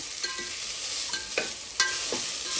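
Vermicelli frying in a pan as a spoon stirs it, a constant soft sizzle with several distinct scraping strokes spaced through, close and moderately loud.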